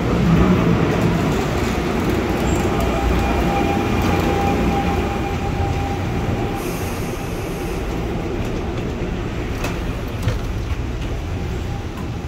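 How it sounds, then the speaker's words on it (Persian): Subway trains in Manhattan, New York rumble steadily through the whole stretch with loud broadband roar, faint wheel squeals and rattling carriages, with no talking. "بعضی از این ترن ها"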